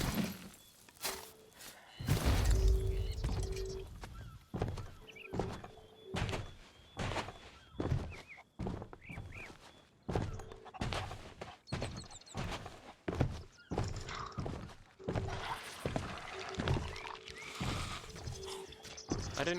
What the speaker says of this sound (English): I'm just gonna keep digging it because we're on a galleon of 4